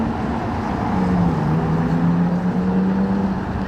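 A LaFerrari Aperta engine accelerating past at a car event, its steady tonal drone rising and falling in pitch as it passes at a moderate distance amid broadband road noise, with no talk.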